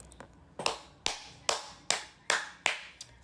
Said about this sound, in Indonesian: Tepuk tangan dulu guys, tepuk tangan.